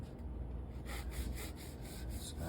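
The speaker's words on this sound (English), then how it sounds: "my husband is going to cut us some slices of bread." A knife saws through a loaf of homemade white bread in quick, soft, repeated rasping strokes, close and quiet.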